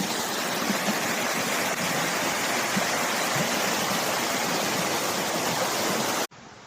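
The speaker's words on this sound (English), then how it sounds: "Beautiful little river flowing along here." A small river rushes along in a continuous, loud broadband wash of flowing water close by, steady throughout before cutting off abruptly at the end, with no voices.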